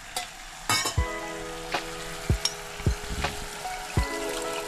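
Tamarind pulp mixed with a little water for dahi vada, a metal spoon striking and scraping the bowl about eight times in an uneven rhythm, each hit ringing briefly, close and alone.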